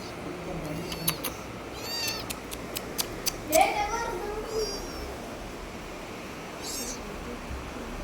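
A kitten mewing in a home, a few thin, high meows rising over a low background murmur, with faint voices in the room.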